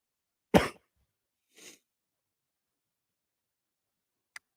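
A man with a rough cough lets out one sharp, close cough, then a softer second one, then a tiny click-like catch after a pause of near silence.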